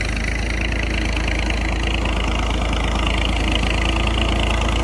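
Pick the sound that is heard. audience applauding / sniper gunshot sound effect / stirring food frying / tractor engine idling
tractor engine idling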